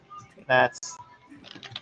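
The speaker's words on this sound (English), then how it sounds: "me typing incorrectly, mind you" Someone types on a computer keyboard in a radio studio, a few soft, sparse key clicks close by, broken by a short burst of voice.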